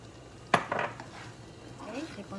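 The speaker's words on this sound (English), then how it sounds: "Keep on stirring." A utensil stirs Kapampangan biringhi in a metal pot, giving one sharp clack followed by softer scraping and knocking over a quiet, steady background.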